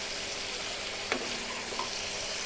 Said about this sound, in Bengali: আলুগুলো দিয়ে সুন্দর করে কষিয়ে নিব